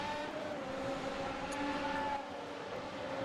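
Race cars lap a circuit in a sim racing game, giving a sustained, even engine drone with steady tonal whine and gear-laden harmonics, moderately loud and continuous with no talk.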